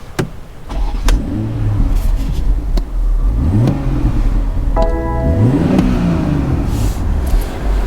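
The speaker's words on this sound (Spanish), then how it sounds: "el sonido del escape de este coche es una maravilla" A 2020 BMW X3 M40i engine cranks via push-button start, catches and roars to life, then settles into a deep, throaty exhaust rumble with a couple of blips of revving, loud and close.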